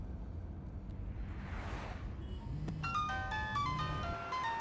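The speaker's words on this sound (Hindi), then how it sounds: "देखो, उसका फोन बज रहा है।" A mobile phone rings inside a car, its short repeated electronic tone pattern starting partway through after a brief whoosh, heard alone at moderate loudness.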